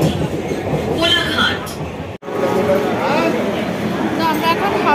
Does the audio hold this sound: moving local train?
yes